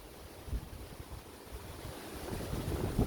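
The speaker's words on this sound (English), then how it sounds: "30-mile-an-hour wind is coming in right now" Outdoor wind gusting near 30 miles an hour across a pool cover, a steady broad rushing roar that swells louder toward the end, with no voices.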